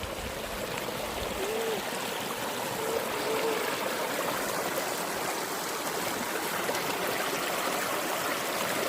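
Steady running water from a stream, a continuous close trickle and gurgle with no voices.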